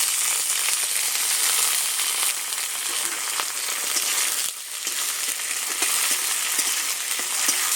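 Prawns fry in a pan with garlic and fresh garden greens, giving a continuous close crackling sizzle with small pops and a dip in the middle, and no talk.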